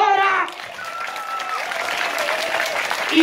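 Children at a school in Peru applaud the principal, a dense burst of clapping with excited voices rising after a brief spoken opening.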